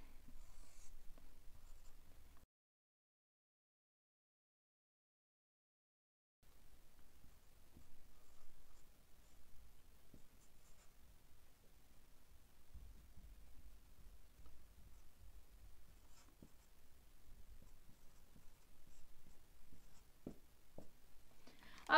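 Faint, sparse scratching of a pen writing out a math solution by hand, soft and close with a few quiet gaps and light taps, and no talking.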